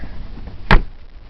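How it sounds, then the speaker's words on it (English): The door of a 1993 Range Rover Classic long-wheelbase truck gives one short, solid latch clunk midway through as it opens, close and fairly loud against a quiet background. "This door opens fabulously well."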